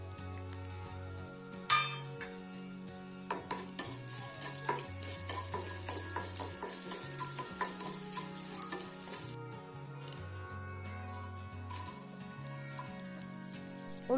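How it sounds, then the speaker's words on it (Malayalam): Thinly sliced ginger frying in a pan for a puffed rice upma, with a steady dense sizzle throughout and occasional stirring scrapes, loud and close with no talking. "ഇനി ചേർത്ത് കൊടുക്കാൻ പോകുന്നത് നമ്മൾ കനം കുറഞ്ഞ് അരിഞ്ഞു വെച്ചിട്ടുള്ള ഇഞ്ചിയാണ്"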